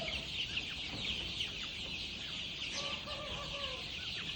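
Chickens on a poultry farm, a crowd of clucks and peeps over a constant background hiss, fairly faint and steady, with a few clearer calls near the end.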